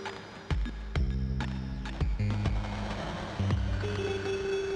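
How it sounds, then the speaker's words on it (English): Electronic beats run through the bit reduction effect of an Elektron Analog Heat, giving punchy kicks and hits a gritty, crunchy, lo-fi texture with sustained tonal drones between, loud and rhythmic. "Bit is a bit reduction."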